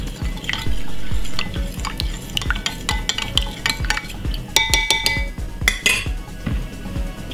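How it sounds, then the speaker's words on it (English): Metal spoon stirring a covered pot of simmered belly-fat drink ingredients, with repeated close scraping and clinking against the sides and lid, plus a few sharper rings, over a steady low thumping background. "So I remove my cover and give it a stir."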